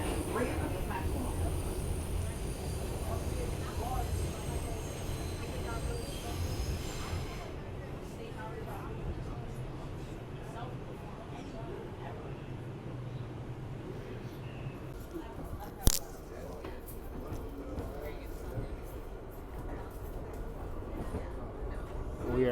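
A Bronx-bound New York subway 6 train, an R62A car, pulls out of Brooklyn Bridge–City Hall station: a loud rolling rumble at first that settles into a quieter running hum, one sharp click midway, and some talk in the car.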